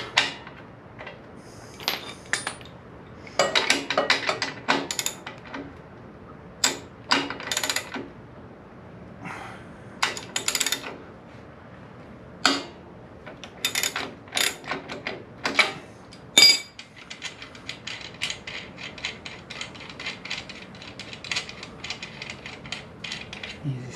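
A ratchet works a 19 mm nut off the rear brake drum of a Royal Enfield motorcycle, giving bursts of close, loud metallic clicking and clacking with pauses between, plus occasional tool and part clatter.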